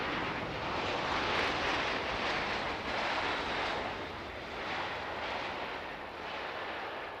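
Aircraft landing at Manchester Airport, a loud broad jet roar that swells and ebbs steadily over several seconds, no speech.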